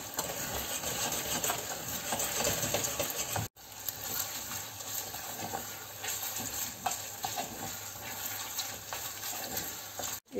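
Cod brandade is stirred in a pan with steady scraping and gentle sizzling that runs close and continuous, broken by one brief pause partway through.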